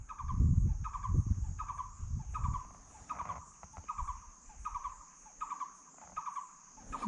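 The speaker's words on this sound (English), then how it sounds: "There's a bird." A bird repeats a short call at a steady rhythm, fairly faint, over a continuous high insect drone and low rumbling noise, near Simsang Bridge in Meghalaya's Garo Hills.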